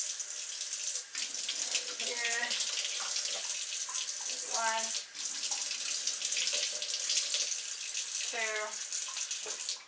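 A kitchen tap runs water into a tablespoon in short bursts, with a rising gurgle as the spoon fills, while a person counts out the measures between pours.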